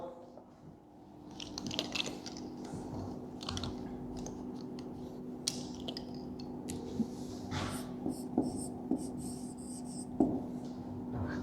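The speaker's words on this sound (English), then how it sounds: "Let us write some main points of this in the board." Chalk or marker scratches and taps across a classroom board in a steady run of short strokes, fairly faint against a low background hum.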